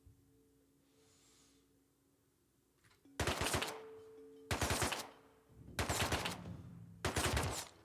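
Automatic gunfire at a military base in the game Once Human, four loud bursts of rapid shots in separate volleys after a quiet lead-in, each lasting about a second.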